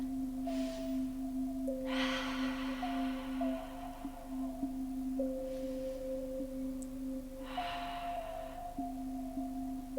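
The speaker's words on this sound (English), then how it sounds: "Let's take some lovely deep breaths." Slow, deep breaths during a children's yoga relaxation come as a few soft, drawn-out breathy swells, spaced well apart over gentle sustained tones.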